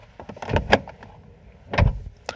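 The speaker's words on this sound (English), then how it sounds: "You can hear the door does not clunk or come together properly" A car door in an automatic car, deliberately pushed without being shut properly, makes two soft, muffled knocks about a second apart instead of a firm clunk, fairly close.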